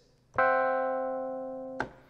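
A single sustained synth chord, a custom chord from an M-Audio Oxygen Pro mini MIDI keyboard, struck once, ringing steadily for about a second and a half before cutting off with a soft click.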